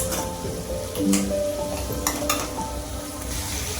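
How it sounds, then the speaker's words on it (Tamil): Cluster beans being tempered in a frying pan with tomato, a loud, close, continuous sizzle with spatula stirring and a few scraping knocks against the pan, no voices. "அப்படியே கொத்தவரங்காய் தாளிச்சு விட்டுருவேன்"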